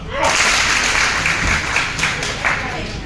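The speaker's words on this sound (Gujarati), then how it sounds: "એકવાર તાળી પાડો" An audience at a Vestige meeting breaks into a burst of clapping that starts abruptly, swells and lingers for a few seconds as a full, loud applause rather than a single clap, with some voices mixed in.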